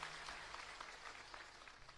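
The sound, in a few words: audience applause welcoming a new MLA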